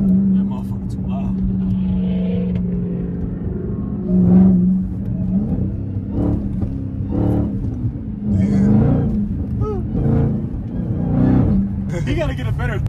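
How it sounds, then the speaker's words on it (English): Dodge Hellcat Challenger fitted with an aftermarket exhaust, idling and revving in a deep rumble with several short throttle blips, while people talk over the engine. "His sound different, his exhaust sound weird."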